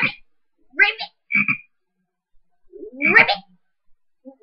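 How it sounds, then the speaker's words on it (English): Frog-like croaks and chirps from a Windows desktop theme come in four separate short bursts with quiet gaps between them, close and fairly loud. "Listen to the cricket. Hear that cricket?"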